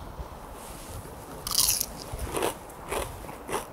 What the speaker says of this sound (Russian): А сейчас я попробую крокеты и батат, пока не тепленькие.